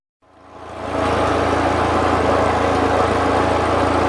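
Engine of a 1941 Ford 9N tractor fires and climbs within a second into a loud steady idle, a close continuous low throb with mechanical rattle, and no talking.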